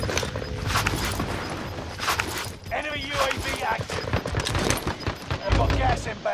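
Gunfire in a video game battle, rapid shots crackling densely throughout, mixed with in-game callouts and a player talking over the action.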